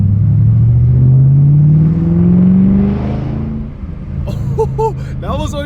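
A Ford GT500 with a Flowmaster Outlaw exhaust roars through a second-gear peel out on a slightly wet road, its rising engine note climbing loudly for about three seconds before easing off. Voices cheer briefly as it fades.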